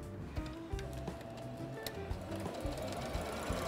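A sewing machine stitching fabric, with a fast mechanical rattle and rhythmic needle thumps running steadily and close, interrupted by small clicks.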